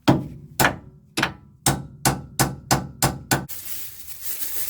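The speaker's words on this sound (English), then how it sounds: "I managed to get that ball joint separated just using the crowbar and lots of hammering" Steel hammer blows strike a Land Rover Defender steering drop arm ball joint as it is driven apart, eight sharp metallic impacts in a steady rhythm, close and loud, followed by a rough scraping rustle.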